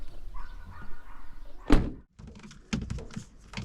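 A camper van door is shut once with a single loud thunk, followed by quieter knocks and rattles of movement inside the van.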